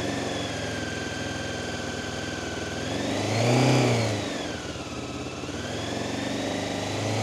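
A Honda CB500 motorcycle engine idles steadily up close, then the throttle is opened once and the revs climb and fall back before idle settles again, with no talk.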